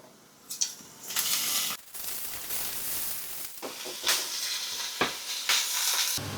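Shrimp dropped into a pan of frying garlic for a risotto, a close hissing sizzle that swells and fades in waves, broken by clattering stirring and clicks against the pan, with no one talking.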